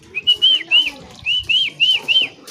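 A racing pigeon gives a series of about eight short whistling calls, each a rising-falling note in an irregular rhythm, clear and fairly close over quiet background rustle.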